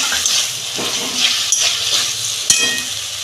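Chopped tomatoes drop into a spice paste frying in a pan with fish curry cooking, bringing a steady bright sizzle and hiss, with stirring scrapes and a sharp clink of utensil against the pan partway through.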